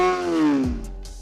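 A Honda CBR 600 F4i sport motorcycle engine gives a short, loud, close rev whose tone slides slightly downward before cutting off, followed by a couple of brief bursts.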